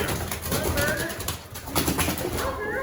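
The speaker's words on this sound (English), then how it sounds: "there's definitely some pigeons in here" Pigeons cooing inside an enclosed room, soft repeated low coos blended with a constant rustling, echoing background and voices talking over them.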